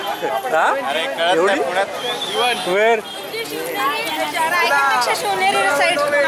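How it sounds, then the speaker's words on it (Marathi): Dense crowd chatter fills the busy Tulshibaug market in Pune, with overlapping voices and close talk continuing steadily throughout. "तुळशीबाग गर्दीचं ठिकाण, प्रचंड गर्दीचं ठिकाण."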